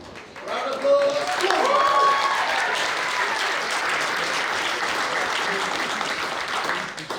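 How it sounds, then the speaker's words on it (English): A wedding crowd bursts into loud, sustained applause and clapping that holds steady for several seconds, with a few cheers near the start. "Round of applause."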